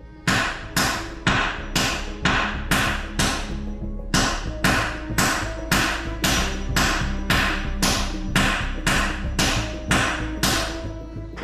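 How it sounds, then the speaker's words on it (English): Steady, repeated hammer blows on a breaker bar freeing a locking wheel nut on a Volvo XC90, about two per second, loud and close with a ringing clang on each strike, no talking. "thanks to this hammer and this breaker bar, we've managed to get some purchase on this locking wheel nut"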